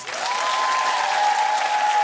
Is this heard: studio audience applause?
yes